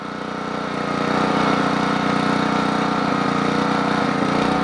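Generac Model 8838-0 engine running with the choke about half open, a steady loud mid-pitched drone with fine rapid pulsing that swells slightly in the first second and then holds even.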